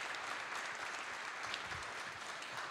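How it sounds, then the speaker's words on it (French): Audience applause from a crowd at a French housing-industry panel event, steady dense clapping that holds at an even level throughout without any talk. "Merci de les applaudir."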